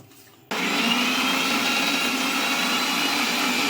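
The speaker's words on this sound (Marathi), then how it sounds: "तर मग याची बारीक पेस्ट करून घेऊया।" A kitchen mixer grinds ginger, garlic and green chillies into a fine paste, starting abruptly after a short quiet moment and then running as a loud, steady whirring roar to the end.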